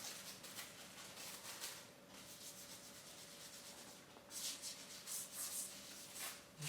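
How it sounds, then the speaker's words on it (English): Cloth or paper rubbing across a part-plastic photopolymer gravure plate to clear off excess ink, a steady soft scrubbing that runs throughout with slightly stronger strokes toward the end, faint and close. "Just gently give it a quick wipe just to clean off any excess that's there."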